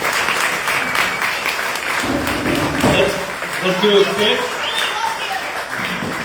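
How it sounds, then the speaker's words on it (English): An open mic audience claps and applauds loudly and continuously, with a voice speaking briefly over the clapping. "They were clapping too loud for you."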